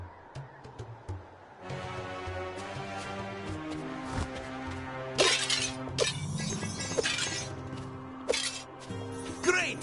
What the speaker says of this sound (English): You really smashed that object!